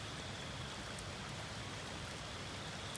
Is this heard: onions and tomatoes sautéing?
no